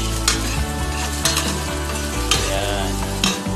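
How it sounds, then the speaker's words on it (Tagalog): Garlic, onion and ginger sizzle steadily in a hot pan while being stirred, with a few louder scrapes of the utensil at regular intervals over a continuous close frying hiss. "Ilagay natin yung bawang, buyas, at saka loya. Tayin natin na brown."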